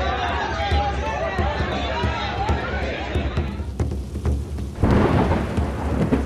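Unseasonal rain and thunderstorm over Mumbai: steady heavy rainfall with rumbling thunder fills the scene throughout, growing denser and louder in the final seconds, with voices faintly mixed in.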